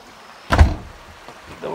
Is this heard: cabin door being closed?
yes